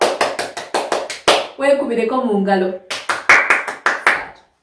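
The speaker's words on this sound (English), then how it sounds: "Clap for yourself." A group claps their hands in quick, sharp bursts, close and loud, during a Luganda circle-time language lesson. A voice briefly speaks or sings between the runs of claps.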